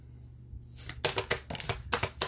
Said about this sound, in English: I just barely shuffled.